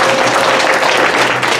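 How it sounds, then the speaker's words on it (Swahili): A church congregation applauding, loud and close, a dense continuous wash of many hands clapping with no pauses. "Mbele kwa makofi ya utukufu."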